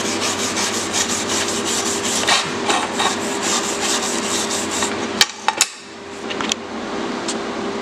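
Harsh, rhythmic rasping and rubbing as an aluminum TIG weld bead is cleaned up, with repeated close strokes for about five seconds, then a pause broken by a few sharp taps and scrapes.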